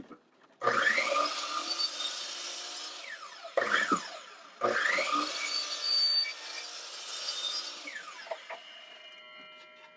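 A Dewalt DW708 miter saw, fresh blade fitted, spins up and makes three close, loud cuts through wood, each a harsh whining bite, then winds down with a fading hum and no talking.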